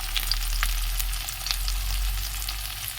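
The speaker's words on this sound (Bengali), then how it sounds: "তেল গরমও হয়ে গেছে, পেঁয়াজটা টমেটোটা দিয়ে দিলাম।" Chopped onion and tomato sizzle in hot oil in a pan, a steady close crackle dotted with small sharp pops, with no voices.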